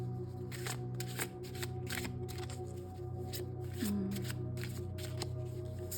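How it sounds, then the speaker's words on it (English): Twin Flame Ascension oracle cards shuffled by hand in a quiet room, making a series of soft, rapid riffling bursts repeated at a fairly regular pace over a low hum. "I'm gonna get some Twin Flame Ascension cards on this."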